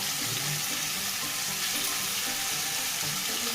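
Washed chicken frying with a little turmeric in a pan for chicken curry: a loud, dense, unbroken sizzle that holds steady throughout.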